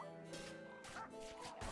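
A spirit dog in the RimWorld video game barks and yips in several quick bursts, close and fairly loud, with no talking over it.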